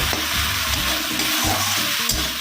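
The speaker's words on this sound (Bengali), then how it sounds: "সসটা দিয়ে একটু নাড়াচাড়া করে" Sauce is stirred into restaurant-style chili chicken frying in a pan, producing a bright sizzle with a few quick scraping stirs over a short stretch.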